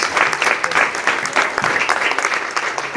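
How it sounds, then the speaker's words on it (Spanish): A church congregation claps loudly for the Lord during a sermon, with brisk, dense applause pulsing in slight waves for a few seconds. "denle fuerte el aplauso al Señor"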